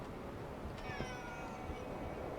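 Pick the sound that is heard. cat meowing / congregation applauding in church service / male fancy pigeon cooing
cat meowing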